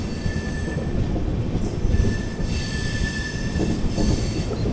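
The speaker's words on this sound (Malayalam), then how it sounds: "ഒരു DP4D ഹൗൾഡ് LHBയിലേക്ക് ട്രെയിനാണത്." LHB passenger train hauled by a DP4D locomotive passing close by, a loud continuous rumble with squealing wheels and metallic clatter, no voices.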